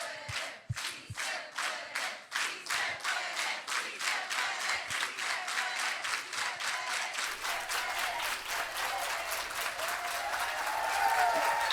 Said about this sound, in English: let's do it all together with an organized hand clap